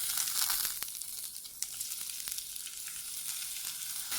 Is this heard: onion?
yes